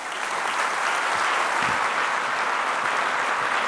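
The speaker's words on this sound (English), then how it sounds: "Big round of applause." Audience applause after a business keynote talk, a loud, dense and even roar of many hands clapping together with no voices over it.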